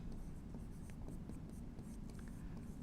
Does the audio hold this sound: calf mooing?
no